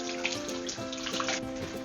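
Warm water runs steadily from a kitchen tap for bread dough, a continuous gushing splash with a faint tonal ring, close but fairly quiet and unbroken throughout.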